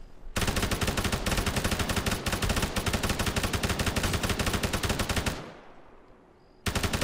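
Rapid automatic gunfire in the video game Arma 3, a loud sustained burst of many shots lasting about five seconds, tailing off into quiet before another burst begins.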